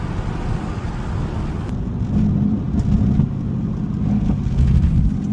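Mercedes-AMG GT S engine under steady load, a deep continuous exhaust drone with slight swells in intensity, loud and close, with no talking.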